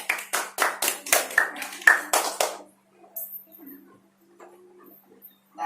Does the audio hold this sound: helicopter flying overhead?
no